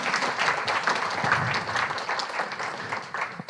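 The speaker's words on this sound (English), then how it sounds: "Please give all of these judges a round of applause" Steady audience applause for judges at a poetry recitation competition fills the clip, a dense wash of many hands clapping at once that holds level before easing slightly near the end.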